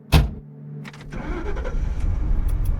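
A car engine cranks with a brief starter whine, catches and settles into a rising idle, near and moderately loud, with a door-like thump at the start.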